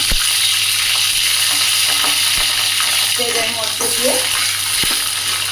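Dried fish hitting hot oil in a pan, a loud, steady sizzling hiss with a few clicks and pops, and a voice speaking briefly over it.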